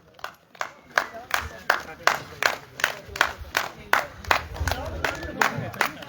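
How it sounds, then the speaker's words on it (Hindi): Rhythmic, fairly close clapping from a crowd at an outdoor trophy ceremony, greeting a prize-winning team as they come to the stage, with loud and steady claps and a voice over the crowd. "तालियां रुकनी नहीं चाहिए,"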